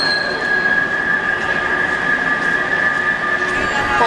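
Trains move through Berlin Hauptbahnhof station, with wheels squealing in a steady high drawn-out whine over a constant rolling rumble, loud and near under the station's echoing hall, no talking.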